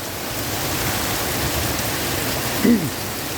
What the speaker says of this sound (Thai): แย่มากเนี่ยฝนตกแรงอยู่ไม่ได้เลยครับ